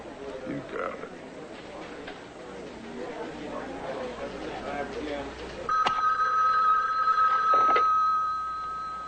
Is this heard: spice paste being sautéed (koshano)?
no